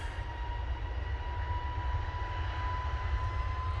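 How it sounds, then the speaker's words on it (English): An Airbus A320neo airliner takes off at Manchester Airport, a steady low engine rumble with a clear high whine held throughout, continuous and fairly distant. "Off to 10 as they go with this A320neo"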